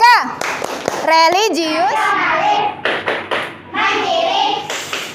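A school class does the rhythmic PPK clap, children chanting words together between sharp bursts of patterned hand claps.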